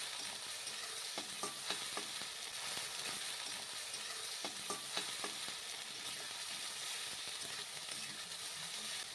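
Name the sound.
sautéing spice paste with water for crab curry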